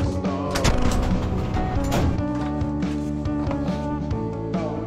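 An M109 self-propelled howitzer fires in the field, producing a loud, sustained blast and rumbling roar that fills the whole span, with a second heavy boom midway and no voices.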